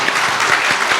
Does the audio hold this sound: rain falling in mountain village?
no